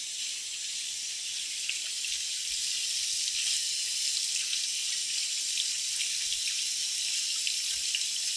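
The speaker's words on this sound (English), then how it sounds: "Just rinse it with cold water." Cold tap water runs steadily over salmon fillets to rinse off salt and sugar, a continuous bright hiss and splash without pause, close and fairly loud.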